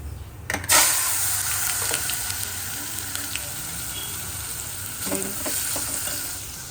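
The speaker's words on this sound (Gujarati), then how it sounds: "આપણે વઘારી નાખશું શાક" A sudden loud sizzle as vegetables hit hot tempering oil, settling into a continuous frying hiss with occasional stirring clatter.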